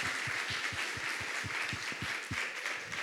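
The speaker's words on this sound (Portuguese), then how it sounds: "uma salva de palmas para a Rebeca" An audience claps steadily at a Portuguese-language church talk, a dense, even patter of applause from a crowd lasting a few seconds.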